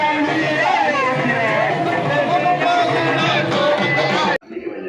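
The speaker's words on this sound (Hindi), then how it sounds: "बहुत भीड़ है यहाँ।" Dense crowd hubbub inside the Rajiv Lochan temple during the Phag festival, many overlapping voices chattering loudly and continuously at close range until an abrupt cut near the end.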